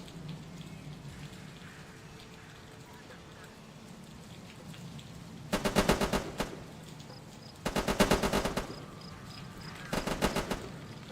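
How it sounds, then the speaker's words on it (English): Grenade launcher fire in the video game Terminator Dark Fate Defiance, with three loud bursts of rapid, rattling shots, each lasting about a second, separated by quieter stretches of game ambience. "It's the grenade launcher that does it."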